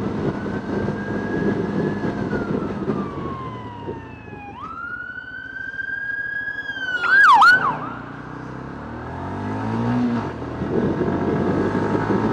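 An emergency vehicle siren wails nearby over road traffic, a long rising and falling tone that sweeps up, holds, then breaks off sharply, leaving engine and road noise.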